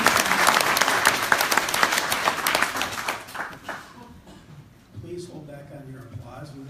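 Dense applause from an audience at an Anoka-Hennepin school board meeting rings out loudly, then thins and dies away, after which a voice begins speaking near the end.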